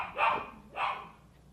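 A dog gives two short, fairly close barks about half a second apart, then falls quiet.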